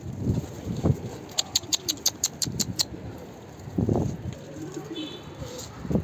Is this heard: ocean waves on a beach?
no